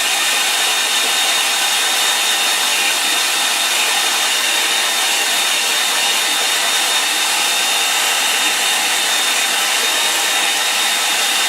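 A hair dryer blows on wet watercolour paint on paper, a loud, steady, unbroken whooshing hum held close to the listener throughout, with no voices.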